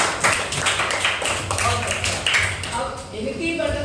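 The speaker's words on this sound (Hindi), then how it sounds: "ताली बजाइए दोनों के लिए" Classroom children clapping together for two classmates, a dense, loud run of rapid claps that thins out near the end as voices start up.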